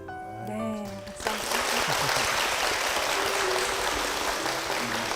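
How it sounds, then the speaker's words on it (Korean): A brief spoken phrase gives way to loud, sustained applause from a church audience at a Korean congregation, the crowd clapping densely and evenly until the end. "박수"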